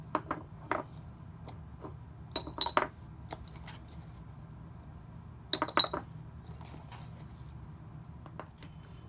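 A spoon clinks and scrapes against a small glass baby food jar while baking soda is scooped in, with sparse scattered taps and a few brighter ringing clinks, close up over a quiet low hum.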